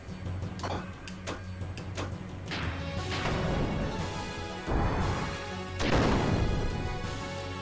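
Heavy crashing impacts from the Idrisil cannon main gun attack in Xenogears land in a series of loud booms and clanks over a droning game soundtrack, with no talk.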